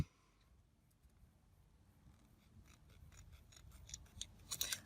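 Scissors trim scrapbook paper, starting near silence and building into a run of quick, crisp snips that grow louder and denser toward the end, close and alone.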